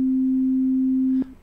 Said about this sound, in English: So I have a sine wave right here. That is a sine wave.